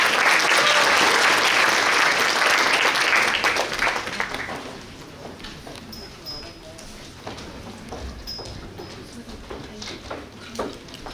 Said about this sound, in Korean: 다시 한번 별난팀에게 큰 박수 부탁드립니다